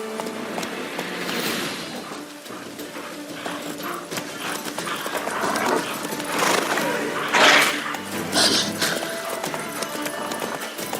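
Horse hooves galloping in the video game The Witcher 3: Wild Hunt, a fast, continuous clip-clop under game ambience and wind, with a brief whinny-like burst partway through.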